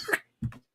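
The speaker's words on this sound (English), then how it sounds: "we sound real good with our coughs and snorts" Two short coughs close to the mic, the first a dry burst, the second a lower throaty hack after a brief pause, with silence between.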